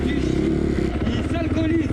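Motorcycle engine at an urban rodeo, a steady, loud running drone with rough low rumble throughout, someone talking over it.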